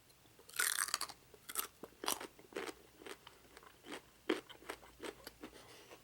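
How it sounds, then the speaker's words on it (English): Close, crisp crunching and chewing of a fresh Ohio-grown raw carrot, a string of sharp bites and crackling chews in an irregular rhythm, loud against a quiet background with no talk. "someone said they hated that I was crunching, so I'm gonna eat this one."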